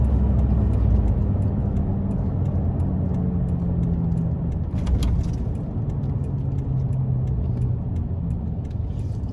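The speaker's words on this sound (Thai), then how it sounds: "นี่รถขนหินนะ" A truck loaded with stone passes on a road near Phu Kao–Phu Phan Kham National Park: a steady loud rumbling engine and tyre roar under a continuous vehicle drone, with no talk.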